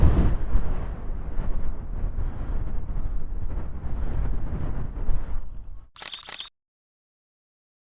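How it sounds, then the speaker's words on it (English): Strong wind near the Beagle Channel and Ushuaia airport buffets the microphone in loud, gusting rumbles for several seconds, then a sharp camera click and silence. "So windy place, the pilots must be really good here."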